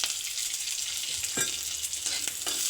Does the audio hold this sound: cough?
no